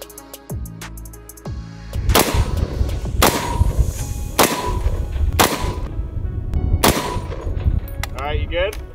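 .308 rifle rounds strike a mobile ballistic shield, with five sharp, loud impacts spaced roughly a second apart, each carrying a ringing metallic clang over steady background noise.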